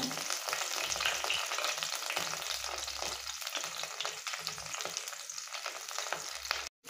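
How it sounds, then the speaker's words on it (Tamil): Dried red chilies and curry leaves crackle and sizzle in hot coconut oil for a crunchy kara pori snack, a steady close frying hiss with light stirring throughout. "எண்ணெய் ஊற்றி வச்சு கருவேப்பிலை, வரமிளகு போட்டேன்."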